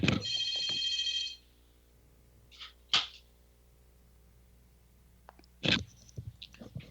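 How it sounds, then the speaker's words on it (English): A telephone rings loudly with a bright electronic trill at the start and then stops, followed by a few sharp knocks and clicks, likely from the handset being handled, in a quiet room. "What's that phone doing?"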